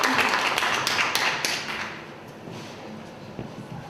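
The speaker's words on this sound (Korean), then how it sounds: "박수를 맞아주시죠" An audience at an indoor book talk applauds to welcome a guest: a dense burst of many clapping hands for about two seconds, then it thins to scattered claps and quiet room noise.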